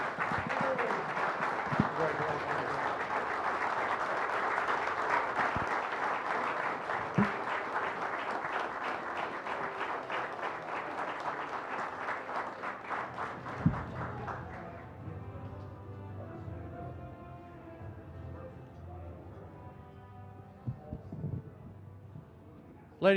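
Sustained applause from a banquet audience at a hall of fame induction fills the hall for about fourteen seconds, then fades to scattered claps with a brief murmur of voices.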